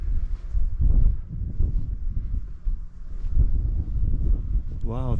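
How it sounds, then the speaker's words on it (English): Steady wind gusts rumble and buffet outdoors at a scenic viewpoint in Iceland, low and blustery, with a brief higher whine near the end. "A bit windy."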